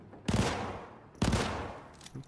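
Two bursts of automatic gunfire from a weapon switched to burst-fire mode in the video game Syndicate, each a loud rapid rattle lasting about a second, separated by a short pause.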